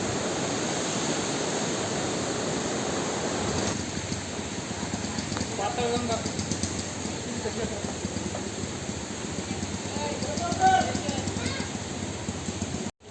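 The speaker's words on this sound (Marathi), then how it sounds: "हे सगळं डोंगरातलं पाणी असं खाली येतं" Mountain water rushing down a hillside stream near a hilltop ashram at Khopoli, a steady broadband roar of flowing water that continues throughout, with faint voices and small clatters over it.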